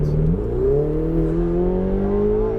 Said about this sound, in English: get the car straight and accelerate